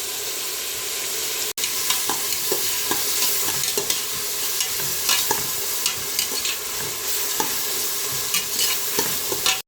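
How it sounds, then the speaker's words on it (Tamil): Onions and curry leaves sauté in hot oil for goat trotter curry, a steady close sizzle and crackle with repeated scraping stirs of a spoon against the pan throughout, briefly interrupted once. "வெங்காயம் நல்லா வதங்கட்டும்."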